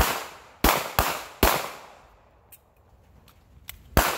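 Rifle and pistol shots from shooting drills at a range crack out in an irregular series, four loud near reports followed by fainter, more distant pops, with no voices.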